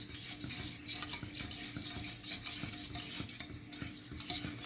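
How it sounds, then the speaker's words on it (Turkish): Chocolate baklava mixture stirred in a pot: a steady scraping swish runs throughout with occasional clinks of utensil against metal, fairly close and alone. "Şunu karıştırıyorum"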